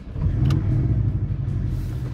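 Porsche 718 Cayman GTS with its 2.5-litre flat-four at a mild cold start in sport mode, a steady loud idle rumble with a brief rev flare early on, heard up close.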